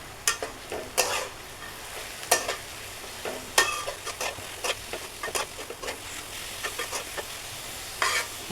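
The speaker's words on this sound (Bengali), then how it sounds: "এখন একটু ভেজে নিব।" Leafy greens with turmeric frying in a pan, a faint steady sizzle broken by sharp clinks and scrapes of a spoon stirring at an uneven rhythm, with no talk.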